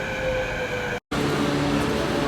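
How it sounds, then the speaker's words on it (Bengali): A train pulls into a station in Canada, a loud steady rumble with sustained tonal squeal and hum, broken by a brief cut partway through. "ট্রেন এসে পড়েছে"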